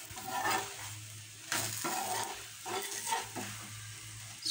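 Two chapatis cook on a pan with a soft sizzle, while stirring and scraping sounds come through intermittently and fairly close.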